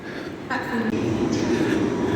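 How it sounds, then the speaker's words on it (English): A train rolls through a station, its rumble and rail noise growing louder and fuller as it passes close by, with a brief voice heard over it near the start. "There's an Illumo train."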